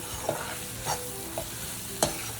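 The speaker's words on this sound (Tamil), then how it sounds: "சிம்மிலே வச்சு நல்லா வதக்குங்க" Vegetables for chicken noodles sauté on low heat in a pan, with a soft steady sizzle and a few light stirring scrapes, close and alone.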